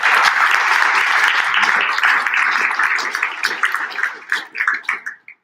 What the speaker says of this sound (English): another round of applause for all of our winners today